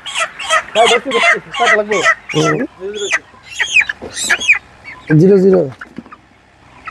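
Colour bird chickens cluck in short, nasal bursts at a roadside poultry sale while two birds are weighed, mixed with nearby conversation.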